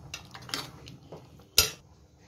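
A lid is set back on a cooking pot of home-style chicken kurma: a few light metallic clinks and scrapes, then one sharp clank as it lands, followed by quiet.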